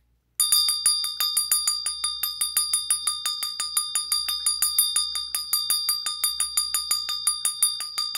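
A bell struck again and again in a steady, even rhythm, each ring clear and bright with a sustained ringing tone between strikes, close and alone with no voices.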